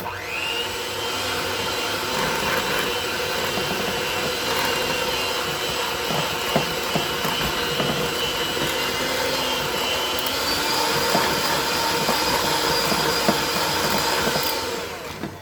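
Electric mixer beating cookie dough with instant vanilla pudding mix, a loud, steady motor whir held close and unbroken for the whole stretch.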